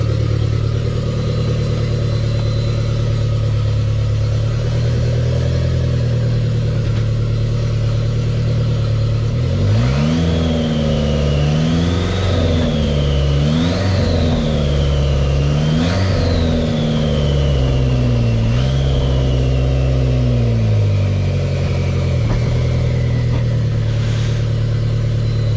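A Dodge SRT4 engine running on a test setup while its transmission is tried out, a steady mid-pitched idle that rises through several revs and whines midway, then settles.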